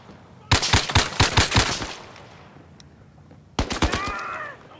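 Gunfire in the VR shooter Zero Caliber: a rapid burst of about eight close automatic shots, a pause, then a second shorter burst that trails into ringing echoes.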